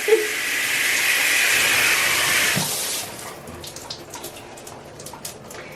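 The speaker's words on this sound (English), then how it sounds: "and that's how you work your shower." Shower water running in a cruise ship cabin on the NCL Getaway, a loud steady hiss for about three seconds that cuts off, leaving faint drips and small splashes afterward.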